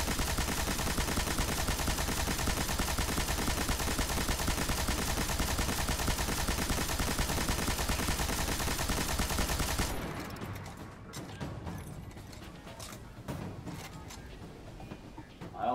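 Sustained heavy machine gun fire in Destiny, a 100-round magazine, in a rapid, unbroken stream for about ten seconds, loud and close, then stops, leaving scattered quieter clatter.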